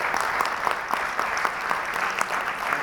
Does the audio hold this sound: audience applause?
yes